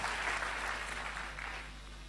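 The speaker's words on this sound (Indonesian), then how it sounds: "Kita berikan tepuk tangan yang meriah buat Tuhan Yesus." Congregation applause during a church sermon, sustained clapping from many hands that fades slightly toward the end.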